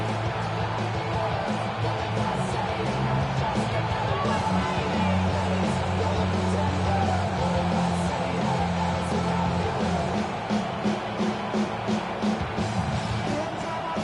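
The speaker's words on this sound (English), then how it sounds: "This crowd into it now as we get to third down." Dense stadium crowd noise at an NFL game between the Buccaneers and Eagles, rising ahead of a third-down play, a steady broad roar with scattered whoops that stays loud and continuous throughout.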